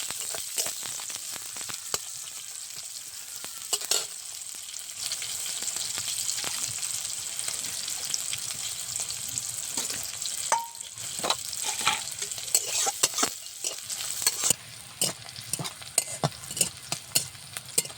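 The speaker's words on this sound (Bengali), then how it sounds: "সরিষার তেল লাল করে ভেজে নেব" Onion, garlic and green chilli frying in hot mustard oil in a pan, a steady close sizzle with repeated scraping stir strokes that grow busier toward the end.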